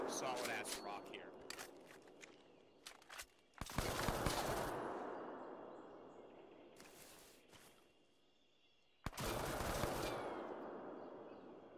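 Gunfire in an Arma 3 Vietnam mission, shot through layers of foliage: rapid automatic bursts and scattered single shots, then two long, loud sustained volleys separated by quieter stretches, with some voices in between.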